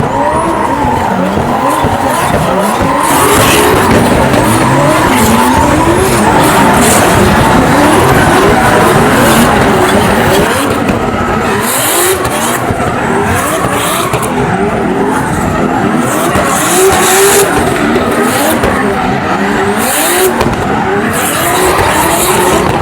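Cars drifting at the Songkhla GP race event, loud continuous engine roar with repeated tire squeals and screeching skids, close and relentless throughout.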